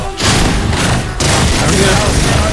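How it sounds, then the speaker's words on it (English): Gunfire in the Fortnite video game, loud booming shots and rapid bursts filling the whole stretch, with a brief lull before more heavy firing resumes; a player talks over it. "there's some gunshots. I hear them, they're over here."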